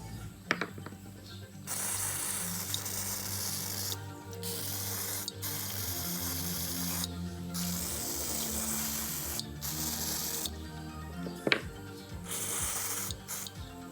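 Carb cleaner sprays onto a STIHL KM90R carburetor in several hissing bursts of one to three seconds, separated by short pauses that carry faint clicks and handling noises, all close to the microphone.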